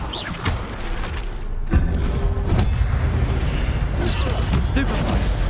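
An Incendio fire spell cast in Hogwarts Legacy: loud booming, crackling magical blasts and rumbling impacts over dense game sound, with a voice talking over it.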